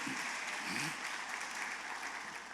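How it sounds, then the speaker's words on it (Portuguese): A church congregation applauds steadily at a service, a dense, even wash of clapping filling the whole stretch with a faint voice or two underneath. "Vamos dar um aplauso bem forte ao Senhor Jesus pela vida desses homens."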